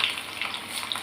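Mustard seeds, onion and curry leaves crackle in hot oil in a kadai, giving a steady close hiss with faint scattered pops throughout, no voices.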